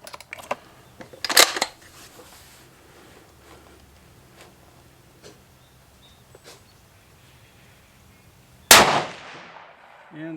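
Rifle shots at an outdoor shooting range, a .270 and a 6.5 Creedmoor: one sharp report early on and another loud blast near the end, each followed by a decaying echo, with faint clinks and quiet between them.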